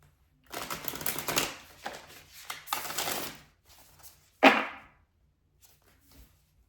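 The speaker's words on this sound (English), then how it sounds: "Let's get a couple of cards." Cards drawn and shuffled from a deck, several rustling riffles and a sharp snap close by, with quiet gaps between.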